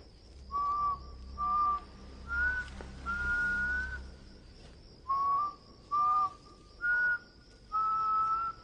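Someone whistles a repeated short tune in separate bursts, moderately close, with a steady high hum in the background in a Persian-dubbed film scene.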